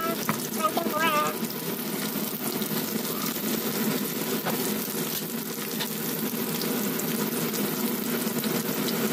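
Tempura frying in oil over a slow fire gives a steady, dense crackling sizzle that runs throughout, with faint background clatter and a brief high-pitched sound early on.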